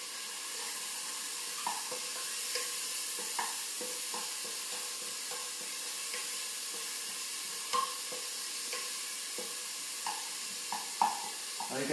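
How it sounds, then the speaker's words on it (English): Onions sauté in a pan until translucent, a continuous close sizzle and crackle with light, irregular scraping taps of stirring, steady and moderately quiet throughout. "Now we are waiting here also for the onion to be a bit translucent in color."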